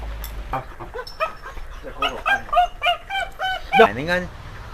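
A puppy yips and barks in short, high bursts, close by, mixed with people talking and chatter in a rural setting over a meal.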